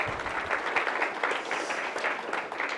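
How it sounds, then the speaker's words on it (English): Audience applause at a young professionals mayoral candidate town hall in Manchester, New Hampshire: dense, steady clapping from a room full of people, continuous throughout with no voices over it. "give yourselves a round of applause"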